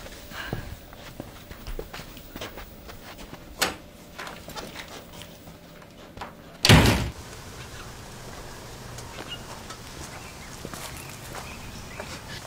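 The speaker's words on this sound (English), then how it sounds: "My door is always open, except when it's closed. Could you close it on your way out?" A door shuts with one solid thud partway through, preceded by scattered footsteps and small knocks in a quiet indoor space.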